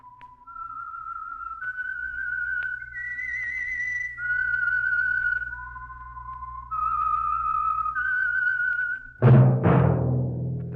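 A melodic whistled theme tune from an old-time radio program, clear and close, a series of held and sliding notes over a low hum, ending with a sudden noisy burst.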